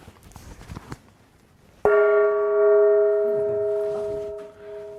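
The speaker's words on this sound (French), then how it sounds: "Vous aimez, j'espère, parce qu'on va l'entendre ce soir, mon gong." A Chinese gong is struck once on stage at a comedy show, giving a sudden loud crash that blooms into a long, shimmering sustained ring and slowly fades, after a few soft, quiet rustles.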